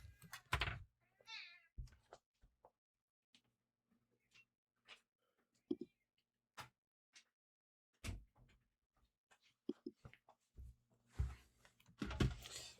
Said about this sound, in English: the cat is screaming at the door